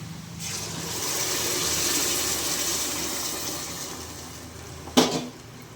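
Rice poured into a pot of hot water while cooking onion rice, heard as a steady soft rushing hiss that builds and fades, then a sharp metallic clack from the pot near the end.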